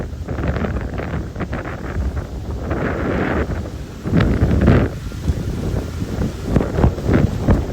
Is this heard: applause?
no